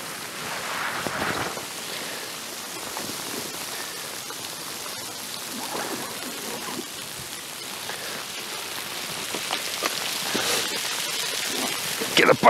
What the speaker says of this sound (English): Oh my God, that's really bad. Really bad. That's hail.